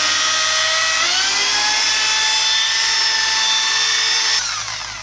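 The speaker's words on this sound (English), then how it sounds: "turning up your drill" Electric drill polishing a plastic headlight lens, a loud, close, continuous high whine that rises in pitch as the motor speeds up, then drops away at the end as it slows.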